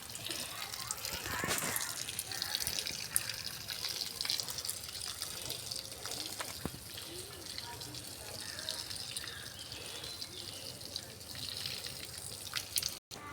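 Water is poured onto chilli and brinjal seedlings in a home garden, a continuous soft splashing and trickling with scattered drips, heard quietly under the surrounding outdoor background.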